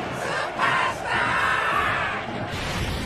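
A roaring crowd battle cry from the Bleach anime, Thousand-Year Blood War arc, swells in loud surging waves that rise and fall for several seconds, with no talking over it.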